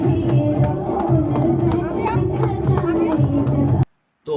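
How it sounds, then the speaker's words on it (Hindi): Crowd chatter at a family retirement party, many voices babbling together at close range in a steady hubbub that cuts off abruptly near the end. "और भीड़ बहुत ज़्यादा बढ़ गई।"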